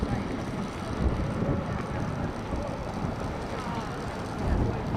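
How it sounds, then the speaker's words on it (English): Gusty wind buffeting a microphone at a lightweight rowing regatta on the water, a continuous low rumbling roar that swells and eases without pause. "Kind of gusty wind."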